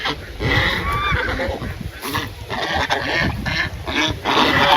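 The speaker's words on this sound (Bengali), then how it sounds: "আর এটা হলো আমার হাঁস রাজা হাঁস" A pet duck quacks repeatedly in short, nasal bursts close by outdoors, with a voice faintly audible in the background.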